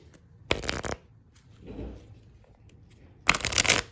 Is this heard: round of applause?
no